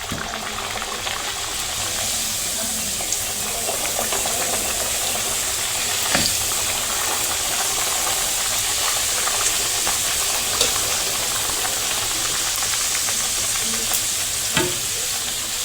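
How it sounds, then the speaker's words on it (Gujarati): Puris deep-frying in hot oil in a kadai, a constant bubbling hiss throughout with a few faint clinks of a slotted spoon. "તો હવે આપણે આપણી પૂરીને તળી લઈશું આ રીતે તેમાં મૂકીને."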